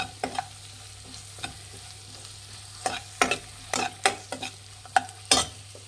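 Seasoned vermicelli (shavige) upma mixture stirred in a pan for hotel-style shavige uppittu, sharp intermittent scrapes and clinks of a spoon against metal, growing busier toward the end, over a faint steady hum.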